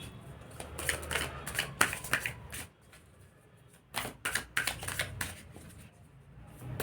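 Tarot cards being shuffled and drawn, quiet close riffling flutters in two bursts separated by a near-silent pause, with soft card slaps and handling clicks.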